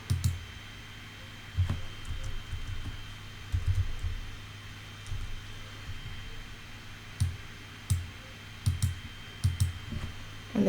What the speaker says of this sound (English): you can actually right click